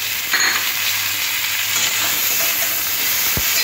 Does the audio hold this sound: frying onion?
yes